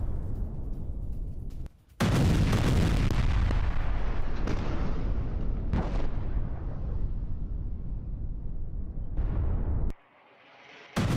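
Explosions from an Israeli strike on militant positions: a sharp detonation followed by a long, loud, rumbling roar, then another burst near the end, all without talking.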